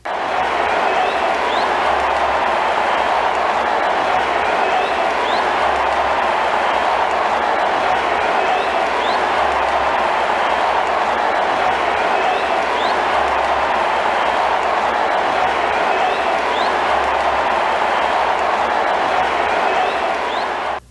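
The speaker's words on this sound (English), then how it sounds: "The crowd went wild with an ovation." A huge stadium crowd at the Superdome during Super Bowl 59 roars in a sustained ovation, a dense unbroken wall of cheering and applause that stays loud throughout.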